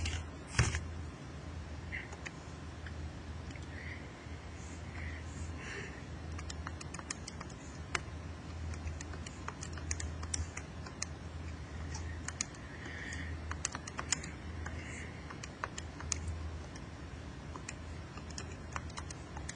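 Calculator keys are pressed in a long, uneven run of small close clicks and taps, some quick clusters and some spaced pauses, over a steady low hum with no talking.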